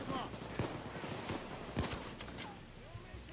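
Gunfire in a bank robbery video game crackles as scattered quick shots and short bursts at low level under a cluttered game mix, with a voice talking faintly alongside.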